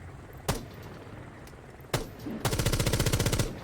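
Gunfire in Rainbow Six Siege: two single sharp shots a second and a half apart, then a loud rapid automatic burst of about a dozen rounds, close and alone.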